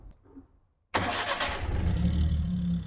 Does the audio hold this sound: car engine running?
yes